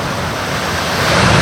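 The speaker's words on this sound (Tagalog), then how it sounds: "malalakas yung alon." Ocean surf at a beach campsite in Agno, Pangasinan, a steady loud wash of waves over coral and rocks that swells slightly toward the end, with no voices.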